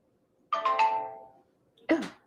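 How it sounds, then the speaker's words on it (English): A phone ringtone goes off, two bright melodic chime bursts separated by a short pause, loud and close with no talking over them. "I hate when my phone goes off when everyone knows I have a very important show going on."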